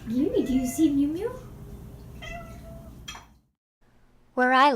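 A cat meows outdoors, several clear, rising-and-falling calls near the start, then a shorter meow, silence, and another loud meow at the end; the cat is one of the abandoned strays living outside.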